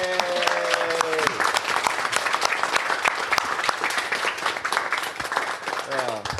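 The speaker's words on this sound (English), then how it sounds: "you deserve a round of applause for watching and learning too" Sustained audience applause fills a conference hall during a print-on-demand industry event, dense and steady from start to finish, with brief talking and musical tones at the edges.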